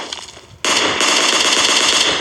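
Sustained automatic gunfire from the PUBG battle-royale video game erupts abruptly after a brief quieter moment, a dense, loud, continuous rattle of rapid shots with no talking.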